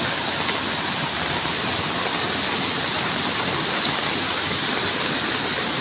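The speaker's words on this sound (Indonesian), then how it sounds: "Hujan deras Sukabumi" Heavy rain pours steadily over rural Sukabumi, Indonesia, a dense, loud, unbroken hiss of downpour with no voices.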